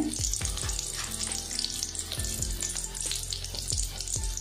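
Small onions and dried chilli frying in a pan: a steady, close sizzle with occasional clinks and scrapes of stirring throughout.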